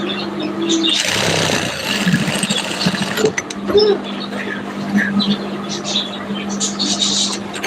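Sewing machine running while stitching fabric, a close mechanical whirring with ratcheting clicks in short bursts and pauses, under faint background sounds.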